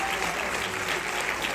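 Steady, dense applause from a theatre audience at a celebration of 100 performances of the play "El mago", a continuous wash of many hands clapping throughout at moderate loudness.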